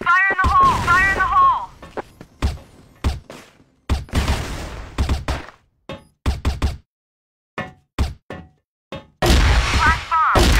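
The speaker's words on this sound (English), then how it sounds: "Flash bomb! Fire in the hole!" Flash bombs exploding during a Compound match in a competitive shooter game: loud booming bursts with rapid crackling pops, arriving in several clusters separated by brief sharp knocks and near-silent gaps.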